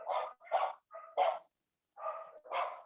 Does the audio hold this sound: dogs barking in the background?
yes